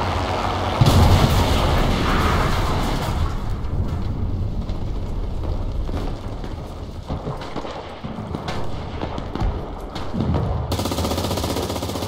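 Gunfire in the Enlisted shooter game, with dense booming artillery-like blasts and rattling automatic fire that roll on continuously and loudly throughout, with no speech over it.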